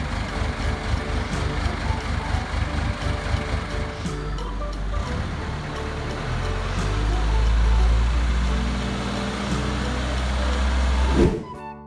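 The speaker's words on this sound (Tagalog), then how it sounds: "Carry deck crane." A carry deck crane's engine runs steadily with a low, continuous rumble that swells in the middle and then cuts off abruptly near the end.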